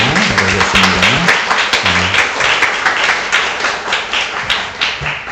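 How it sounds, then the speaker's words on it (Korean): A church congregation applauds in welcome during a Sunday worship service, steady crowd clapping with a few distinct near claps, while a low voice speaks briefly underneath early on. "우리 환영의 박수를 맞이하겠습니다"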